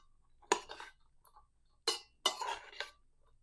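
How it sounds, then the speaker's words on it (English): A pot of black-eyed peas with bacon and parsley is stirred, giving a few separate clinks and scrapes of a spoon against the pot, close and fairly quiet, with short pauses between strokes and no talking. "I'm going to give this a stir."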